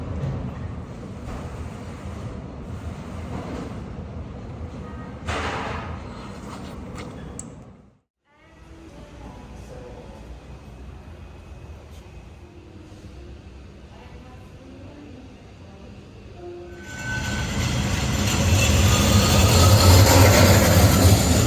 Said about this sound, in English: So this is the Amtrak station for Washington, D.C.